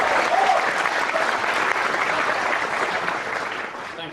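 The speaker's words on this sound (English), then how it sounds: "Give Liam a round of applause." Steady applause from a youth rally crowd in Toronto, sustained and fairly loud throughout, a dense wash of many hands clapping that tapers slightly toward the end.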